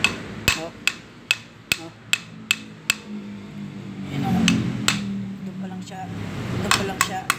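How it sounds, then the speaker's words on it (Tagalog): An old car ball joint used as a makeshift hammer pounds a tie rod end part in a series of sharp metallic strikes, about a dozen evenly spaced blows that pause briefly midway before resuming. "Ito na lang ball joint na luma, gamitin natin pang pukpok"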